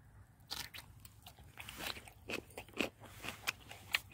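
Aged kimchi crunched and chewed outdoors beside a campfire on a cold night, with a series of close, crisp bites and wet chewing sounds at an irregular pace, and no talking.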